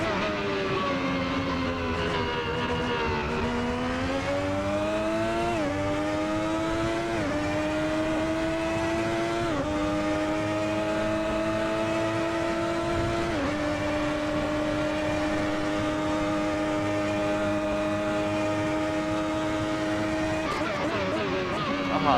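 An ASR Ferrari 641 Formula One car in the Assetto Corsa racing game, its high-revving engine screaming continuously close-up, with pitch stepping up through gear changes and holding steady at high revs.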